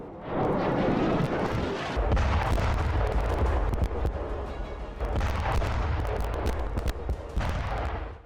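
Continuous heavy shelling: dense, rumbling explosions and booming artillery fire overlap without pause, loud and chaotic throughout.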